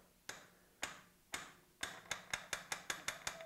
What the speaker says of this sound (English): So I'm going to just tap that bar over using a hammer.